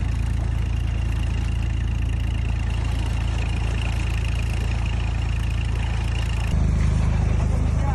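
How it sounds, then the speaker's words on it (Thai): A small water pump engine idles steadily and loudly, a constant low rumble that shifts slightly in pitch near the end. "เร่งเครื่องเบาๆเลยนะครับประหยัดน้ำมัน"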